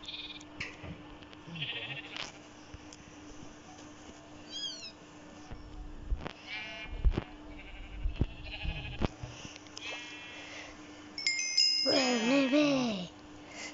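Sheep bleat in a video game, several wavering calls spread across the scene, the loudest cluster near the end, over soft ambient game noise with scattered clicks and thumps and no clear speech.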